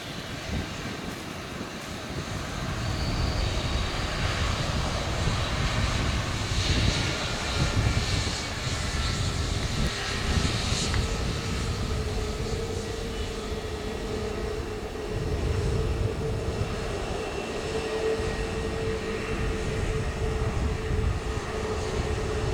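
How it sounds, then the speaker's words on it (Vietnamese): A Thai Airways Airbus A321 landing on runway 25 right in strong wind gives a sustained, loud engine roar and rushing wind noise that persists for over twenty seconds. "Bây giờ chiếc Airbus A321 của Thái Air đã hạ cánh xuống đường băng 25 phải."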